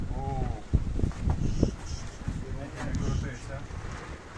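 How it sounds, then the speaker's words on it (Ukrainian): Low, blustery wind rumble buffets the microphone throughout, with people talking over it. "Трошки вітер буде мішати"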